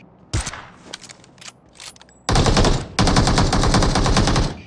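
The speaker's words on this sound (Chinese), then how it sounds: "前方枪声阵阵" Gunfire in a shooter video game: a few sharp isolated shots and short bursts, then loud, sustained automatic fire rattling in two long bursts.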